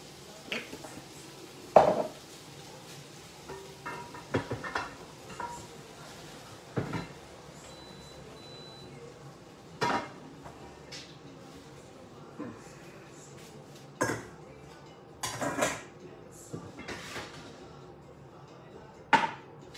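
A metal saucepan and utensils clank and scrape in several sharp bursts, spaced irregularly, with low kitchen murmur in between, as beef chuck is heated in walnut oil.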